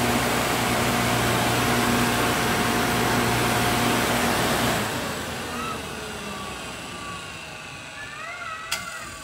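A rewound Powercraft 1.1 kW, 3,600 rpm compressor motor running after being plugged in, a loud steady electric hum and whine that cuts off midway and then winds down, fading with a descending whir.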